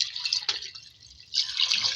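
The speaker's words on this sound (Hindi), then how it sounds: "पानी ऐड करेंगे इसमें" Water pours into a cooking pot holding whole spices for mutton pulao, a close, bright splashing stream that eases off briefly mid-way and then resumes in a burst.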